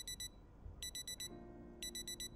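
An alarm clock rings in Project Zomboid, a quiet, high electronic beeping in rapid clusters of two to four pulses with short pauses, over a low background hum.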